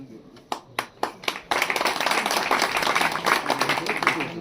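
A few isolated hand claps at a village goddess celebration swell into full, sustained crowd applause, loud and dense to the end.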